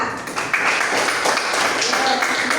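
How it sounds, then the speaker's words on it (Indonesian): A classroom audience at a university teaching session breaks into applause, a dense and steady clapping that swells after a brief pause and carries evenly to the end. "Tepuk tangan dulu untuk kita semua"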